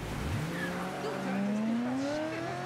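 A car in Mafia 3 driving with squealing tires, a rising whine and skidding screech under a steady engine roar, close and fairly loud.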